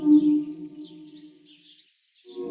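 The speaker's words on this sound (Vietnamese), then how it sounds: "Whale." A whale calls with a long, moaning tonal cry that slowly fades into silence before a second call begins, sounding hollow and slightly echoing, with nothing else heard.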